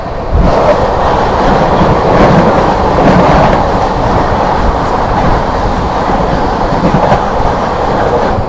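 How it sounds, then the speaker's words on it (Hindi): The Lucknow–New Delhi Shatabdi Express passes close by on a foggy line, a loud, sustained rumble of wheels and carriages rolling steadily past with a faint rhythmic clatter. "यहाँ पर सामने से आती हुई लखनऊ नई दिल्ली शताब्दी एक्सप्रेस"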